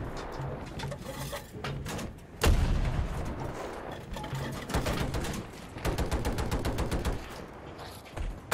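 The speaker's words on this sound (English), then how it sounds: "Let me just put a tank shell right on that dude" A tank shell fires with a heavy boom and bursts in the video game Battlefield, amid ongoing loud rattling gunfire and repeated explosions from a chaotic battle.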